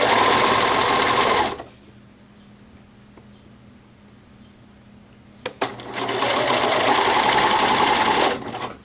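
A sewing machine runs in rapid whirring bursts while stitching binding onto a tank top neckline: a loud stretch, a quiet pause of several seconds, a few clicks, then another long steady run, close and alone.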